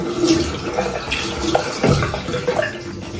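Cold water runs from a tap while a face is rinsed at a sink in a rented room in the UK, a close, continuous splashing and trickling with small bursts and pauses as hands scoop the stream.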